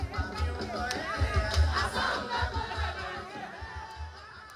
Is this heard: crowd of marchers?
yes